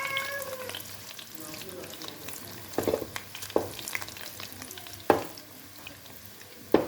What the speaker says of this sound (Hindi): हम इसको फ्राई कर लेते हैं। हमारा ऑयल गर्म हो चुका है